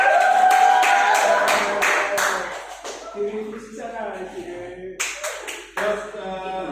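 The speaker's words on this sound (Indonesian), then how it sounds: "tepuk tangan untuk kelompok 2" A school class claps for a student group in a classroom with a short burst of sharp claps at the start. It fades into a teacher's talk.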